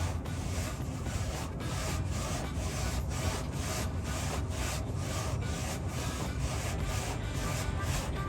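A pipe cutter turned slowly back and forth around a steel exhaust pipe on a 2019-2022 Silverado/Sierra 5.3L, giving a steady, close scraping rasp with regular pulses as the cutter wheel rolls and bites.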